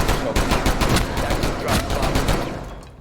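SMG gunfire in the Rainbow Six Siege video game during a competitive esports finals match, loud rapid bursts of automatic shots with dense repeated cracks, with a caster's voice mixed in underneath.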